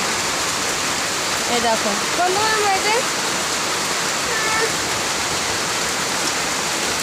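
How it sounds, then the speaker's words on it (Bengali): Steady rain falls in a dense, even hiss that lasts the whole stretch, fairly loud and close. A voice speaks briefly over it. "এই কিছুক্ষণই হলো বৃষ্টি শুরু হয়েছে।"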